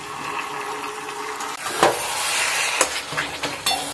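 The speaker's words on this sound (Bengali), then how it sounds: "এবার এই ডালটা আমি এটার মধ্যে ঢেলে দেবো" Cooked mung dal poured into a pan holding a fried fish head, a wet slosh and splatter setting off a louder sizzle after a quieter simmer, with a few scraping stirs.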